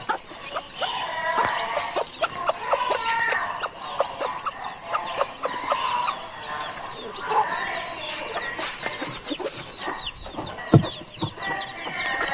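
A native rooster and three chicks cluck and peep in a backyard flock, with scattered short calls and chirps layered over one another and an occasional louder squawk, fairly close.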